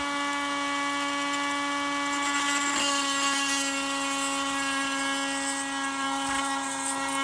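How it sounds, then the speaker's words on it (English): An electric drill bores a hole for a model railroad track feeder wire, giving a steady, close, continuous motor whine with no pauses and no talking. "You kind of want to push up a little bit and down to get the drill bit started."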